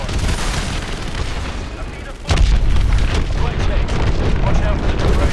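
Missile strikes in the Call of Duty Advanced Warfare video game, with a heavy rumbling explosion hitting about halfway through over continuous loud battle noise, and a voice talking underneath.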